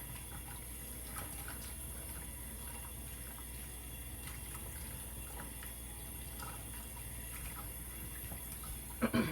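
Turkey neck meat rinsed under a running kitchen tap: steady, close splashing water flows throughout, with a few louder clatters at the very end and no speech.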